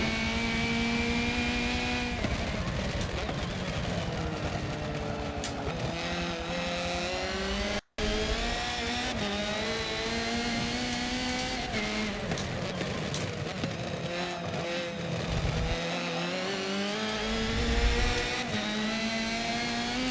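Race car engine in the Forza Motorsport 7 video game at the Long Beach street circuit, droning steadily through a lap with rising and falling pitch as gears shift, loud and continuous with a brief dropout midway.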